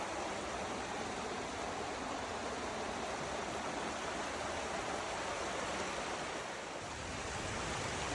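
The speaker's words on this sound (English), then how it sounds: "Well, here's the waterfalls" Spoon Creek Falls in Olympic National Forest, a waterfall at heavy flow, gives a constant broad roaring rush heard close by, steady and unbroken with no voices.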